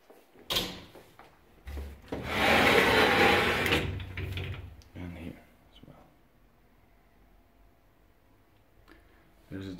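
Wooden drawers of a chest of drawers in an apartment bedroom slide open and shut, with a long rumbling scrape, several knocks and clunks, and a person talking nearby.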